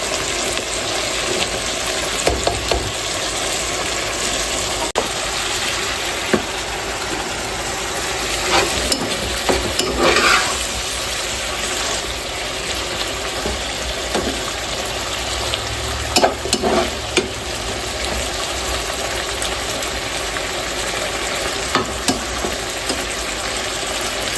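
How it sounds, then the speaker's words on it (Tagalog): Steady sizzling of pork frying in a pan, a continuous crackling hiss with occasional louder spatters and faint stirring clatter. "Prito ng konti"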